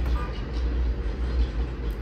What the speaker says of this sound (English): let's just wait for the train to pass